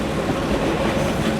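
A fast local commuter train between Narayanganj and Dhaka rolling at speed, a dense, unbroken roar of wheels and carriages heard from on board, loud and steady throughout.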